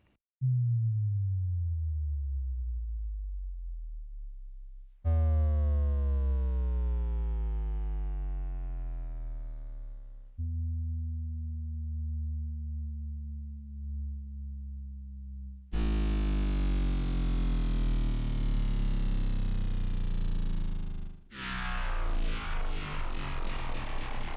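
Synthesized tones sweep downward in pitch, one after another, each long descending effect lasting several seconds, some buzzy and harmonic-rich, others smooth.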